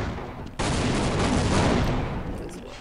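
Mounted gun in the Half-Life video game opens fire after a brief quiet moment, a loud sustained burst of rapid gunfire that rolls on for over two seconds with no talking.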